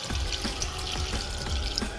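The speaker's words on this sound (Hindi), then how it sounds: "पानी हमारा कम है तो इसमें हम थोड़ा सा पानी और ऐड करेंगे।" Water poured into a bowl of chopped vegetables being prepared for chicken roti shawarma, a steady splashing trickle with small drips, close and continuous without speech.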